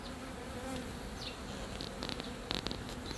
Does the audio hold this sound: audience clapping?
no